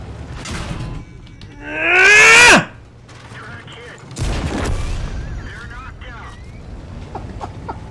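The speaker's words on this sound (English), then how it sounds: "I rammed them full speed down the hill." A tank in World of Tanks rams an enemy tank at full speed down a hill: a rising whistling whine builds, then a heavy crunching impact lands amid ongoing battle noise.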